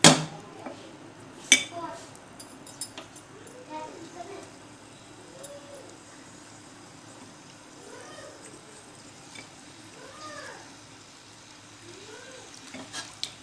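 Marinated chicken frying in a pan over high heat, a soft steady sizzle broken by a few sharp clanks of utensils against the pan, with faint chatter in the background.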